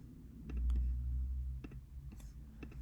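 Computer mouse clicks while formatting a spreadsheet chart with a secondary axis, several sharp, close clicks spaced irregularly over a low room hum, without speech.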